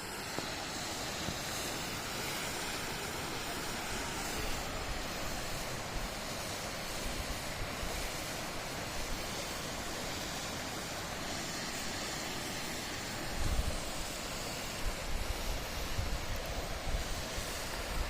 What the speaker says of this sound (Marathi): काळू वॉटरफॉल, माळशेज घाट.